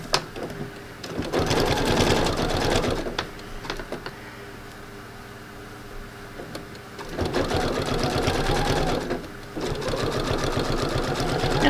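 A sewing machine runs zigzag stitching for thread painting a beach landscape, whirring in fast even bursts close by with a quieter stretch between runs.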